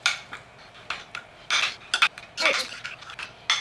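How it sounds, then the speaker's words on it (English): Chopped fresh parsley and salt are mixed in a bowl, heard as close, irregular scraping and clinking strokes of a utensil against the bowl, coming in short bursts with brief pauses between. "I have to put some salt, and then just mix it all."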